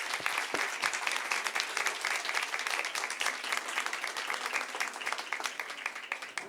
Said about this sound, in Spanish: Un gran aplauso, por favor, para Jaime.